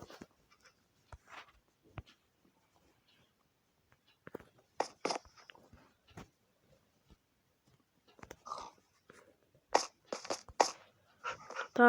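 Scattered dog noises in Minecraft, small snuffles, whimpers and clicking mouth sounds, come in sparse bursts against near silence, louder toward the end.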